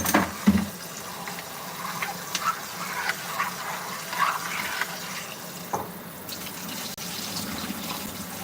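Tap water runs and splashes into a pot of rice being rinsed, a soft steady flow with small knocks and clatters of the pot, fairly quiet and close.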